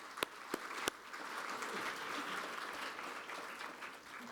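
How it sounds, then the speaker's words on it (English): Audience applause at the GSTC 2024 Singapore opening ceremony, saluting the team; a few sharp, separate claps open it, then steady, moderately loud clapping fills the room before easing slightly at the end. "a big applause to the team"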